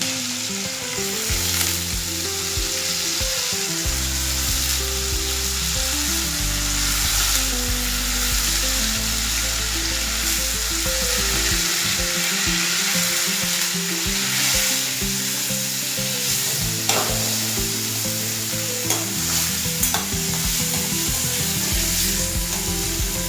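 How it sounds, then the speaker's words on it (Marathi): Barnyard millet (bhagar) sizzles steadily in hot oil in a pan, with a spoon scraping and stirring through it. The frying goes on throughout, loud and close, and no one talks. "आपण आता याच्यात भगर टाकून घेऊया. ती पण चांगली तेलात परतून घेऊया."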